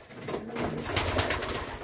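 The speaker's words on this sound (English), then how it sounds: "Classy little pigeon." Racing pigeon cooing close by, a steady run of soft, throaty coos through the clip with no talk over them.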